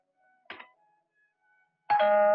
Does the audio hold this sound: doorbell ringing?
yes